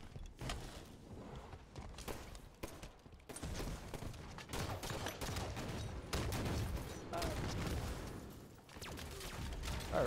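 Gunfire in a video game at barrels, heard as dense rapid shots and clattering impacts that run almost without pause, loud and busy throughout, with some talk mixed in.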